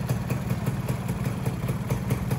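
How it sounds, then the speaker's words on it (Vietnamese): A 1999 Suzuki Xipo motorcycle fitted with an electric starter, its engine idling after starting with a quiet, rapid, even pulsing clatter, steady and close, with no voices. "Như là xe điện vậy, bấm nút cái là xe nổ máy à."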